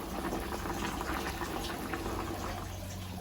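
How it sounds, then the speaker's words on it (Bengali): Corn simmers in a pot of boiling water on a kitchen stove, giving a steady, soft bubbling hiss that stays fairly quiet and unchanging throughout, with no talking. "এই যে দেখো, কর্নটাকে এখানে সেদ্ধ করতে দিয়ে দিয়েছি।"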